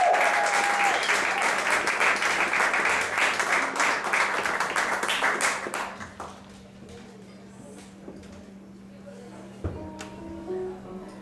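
An audience applauds the double bass player at a live music performance at Cauz, loud sustained clapping for about six seconds that then fades out to quiet room sound with a few scattered claps.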